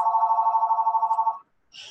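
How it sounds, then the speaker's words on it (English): A mobile phone rings with a steady warbling electronic tone that pulses rapidly for over a second, then cuts off, leaving a brief silence before faint noise. "Sorry, my phone is ringing."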